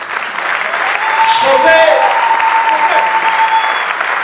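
Applause from a congregation fills the room for several seconds, steady and fairly loud, with a voice calling out over the clapping.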